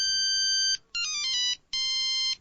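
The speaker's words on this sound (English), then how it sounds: "I was rudely awoken by somebody inconsiderate enough to ring my mobile at 2:30 in the afternoon" A mobile phone rings with an electronic ringtone, two-thirds of the way into the afternoon: three loud, close bursts of bright warbling tones separated by brief gaps, with no voices.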